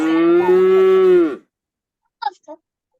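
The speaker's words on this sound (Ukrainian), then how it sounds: "Тобто корова." A cow lets out one long, deep moo, loud and near, then falls silent apart from a couple of brief faint sounds.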